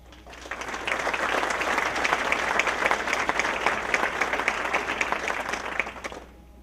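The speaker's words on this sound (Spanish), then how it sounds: "recibimos con un aplauso" Audience applause at an inauguration ceremony welcoming an official, a full, even wash of many hands clapping that starts abruptly, holds steady for several seconds, then cuts off.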